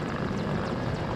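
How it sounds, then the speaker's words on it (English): A helicopter in the video game WARNO flies low just over buildings, its rotor and engine making a steady, dense roar that fills the whole moment without a break. "this helicopter is, like you guys see, barely clearing these buildings, and now it's even dropping even lower"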